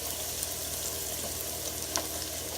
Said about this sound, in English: So I'm going to stir this around for a second and turn my fire back up.